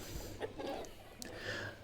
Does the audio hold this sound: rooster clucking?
yes